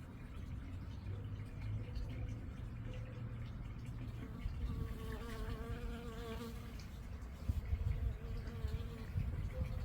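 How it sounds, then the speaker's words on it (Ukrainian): A steady insect buzz, a bee hovering close among tulips, drones over soft outdoor background noise, with no voices. "Тут теж квітують тюльпанчики і бджола працює"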